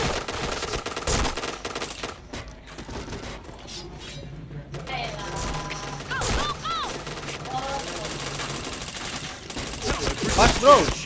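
Rapid automatic gunfire in a multiplayer shooter video game, with dense bursts and shots running through most of the stretch at steady loudness while players talk excitedly over it.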